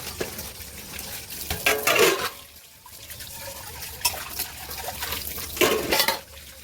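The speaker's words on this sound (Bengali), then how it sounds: "আর কলে জল পড়ছে, বাসন রেখেছি" Tap water runs and splashes onto washed metal dishes and pots, with intermittent clatter and splashing bursts, close and moderately loud.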